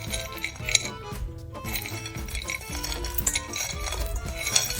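Dry fruits and nuts tipped into a bowl of weight-loss salad, giving a steady run of close clinks, rattles and scraping against the bowl.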